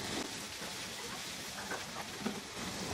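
Tomato frying in a pan with ginger and garlic gives a steady, even sizzle and hiss throughout, fairly quiet, with no voices.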